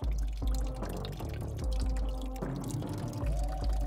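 Water poured from a container onto a newly planted tree seedling in an Iowa yard in fall, a steady close splashing and trickling stream with gurgles and drips running continuously throughout.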